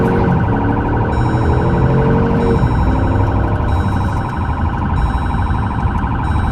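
A loud police car siren wails close by during a highway chase, cycling steadily and without pause through the whole stretch.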